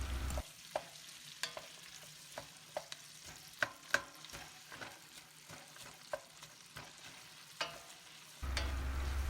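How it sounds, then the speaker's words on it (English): Broccoli and onions cook down in butter in a pan, a faint steady sizzle punctuated by repeated clicks and taps of a spoon stirring, close up with no voices. "Eventually, once we cook it maybe halfway, we throw in our onions. And we're going to cook both of them down."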